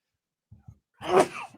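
A single sharp sneeze after two quick soft breaths, close and loud against an otherwise silent background.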